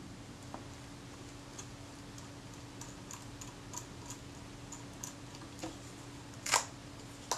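Small metallic clicks and ticks from screws being unscrewed on a Kodak Retina I type 126 camera during servicing, quiet and scattered at irregular intervals, with one slightly sharper click near the end.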